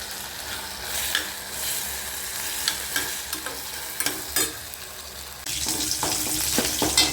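Small shallots frying in a pan for a tamarind curry, a steady close sizzle punctuated by sharp spatula scrapes and clinks, growing louder and more intense in the last seconds, with no talking.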